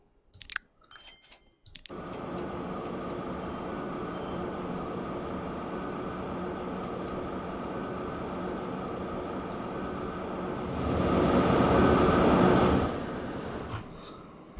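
A train in Transport Fever 2 rumbles steadily along with a continuous low rolling drone, swelling louder briefly near the end before easing off.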